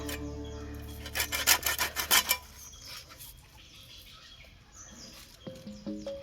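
A knife cuts fish crosswise into large pieces in a home kitchen, giving a close burst of rasping, rubbing strokes early on, then quieter scraping and a few faint chirps. No talking.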